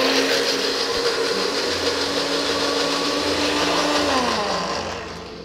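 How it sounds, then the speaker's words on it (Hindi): A kitchen mixer grinder whirs loudly and steadily, grinding soaked, swollen lentils into a paste, with a constant high motor whine that dips in pitch near the end as the blades slow and the sound fades. "सुबह हम इसको अच्छे से मिक्सी में ग्राइंड करके इसका पेस्ट बनाएंगे"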